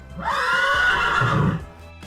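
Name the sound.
horse neighing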